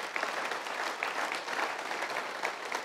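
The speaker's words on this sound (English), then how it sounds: "Let's give them a round of applause." A church congregation gives its worship team a round of applause, steady dense clapping from a large crowd lasting a few seconds without a break.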